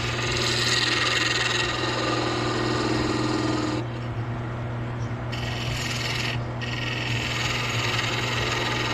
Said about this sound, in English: Use my spindle gouger, get as close as I can.